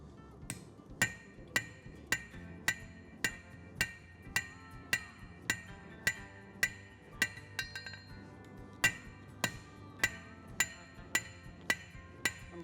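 A cross peen hammer forges a hot steel kitchen knife blade near the heel, giving a steady series of sharp, ringing metallic strikes roughly every half second, loud and close, with no talking.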